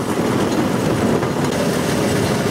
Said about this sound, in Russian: самое интересное, это как рельсы дрожат, когда мы по ним едем.